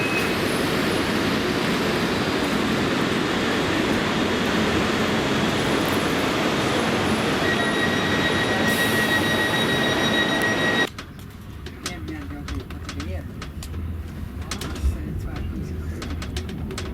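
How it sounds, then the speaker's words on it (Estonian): A double-decker airport train at Zurich airport, Switzerland, rumbles loudly and steadily along its rails, then the noise drops abruptly to a quieter interior hum for the final few seconds. "Lennujaama rong, kahekordne."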